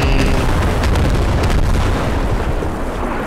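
Artillery shells bursting in the video game Squad, a dense, loud barrage of booming blasts and rumbling impacts that roll continuously without pause, with no voices over it.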